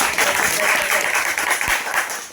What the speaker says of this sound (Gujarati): જબરજસ્ત તાળી દઈએ, વેલકમ કરશું.